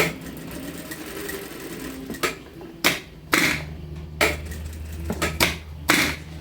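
A sewing machine stitches curves on a toiletry bag in short bursts, a rapid mechanical whir that starts and stops several times with quiet pauses between runs, close by and without speech.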